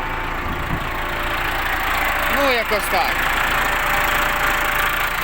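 A Case 695 tractor runs at a steady idle after a hydraulic pump replacement, an even, continuous engine drone up close while someone speaks briefly over it.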